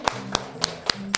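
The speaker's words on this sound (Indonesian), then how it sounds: "Kasih tepuk tangan yang meriah untuk Dek Catherine" Applause in a classroom at the end of a lesson: five crisp hand claps in an even, quick rhythm, close by and with no voices.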